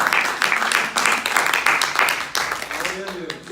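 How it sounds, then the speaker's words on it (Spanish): Church congregation applauding during a sermon, a dense patter of clapping that carries on steadily before thinning out near the end, with a voice faintly audible underneath. "Le voy a dar tiempo para que aplaudan."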